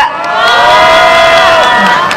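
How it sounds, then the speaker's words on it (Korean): A large outdoor crowd at a citizens' candlelight rally in Incheon cheers loudly after a pungmul percussion troupe performs, with sustained shouts and high whoops rising together; clapping is barely distinct beneath the voices. "큰 박수 부탁드리겠습니다"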